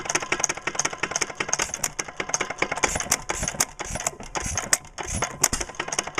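Hit and miss engine, of the Fairbanks Morse dishpan or 1936 Silver KA kind, running close by with a busy, steady clatter of rapid mechanical ticks and occasional firing thumps, heard without talking.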